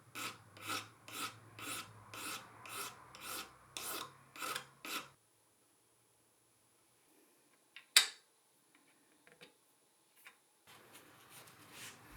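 A file rasps back and forth across one end of an ebony truss rod cover in about ten rhythmic, close strokes, followed by quiet handling, a sharp knock and light scraping.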